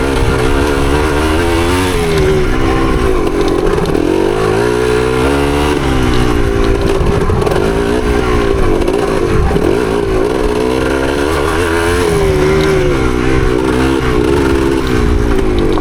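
A 1975 Yamaha DT250 two-stroke motorcycle engine drones loudly and up close on a trail ride, its pitch rising and falling with the throttle throughout.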